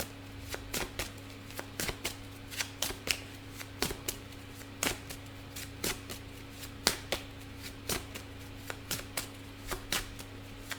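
Tarot cards being shuffled by hand, a steady run of crisp riffling flicks and taps repeating through the clip over a low constant hum, fairly quiet and close, with no talking.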